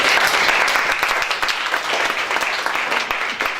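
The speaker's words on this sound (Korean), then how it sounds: "박수 하겠습니다." Audience at a school principal's humanities lecture breaks into steady applause, many hands clapping densely and evenly throughout with no break, fairly loud and filling the room.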